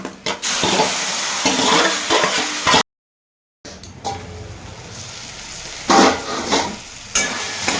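Roasted, mashed vegetables frying in a pan with ground coriander and cumin, stirred steadily with a loud, near sizzle and scraping. A brief silent gap breaks it before the stirring resumes, with sharper scrapes toward the end.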